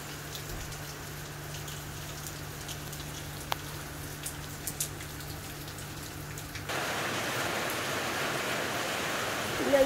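Steady rain hisses down on parked vehicles and surfaces, a dense wash of drops that grows louder partway through, with no talking.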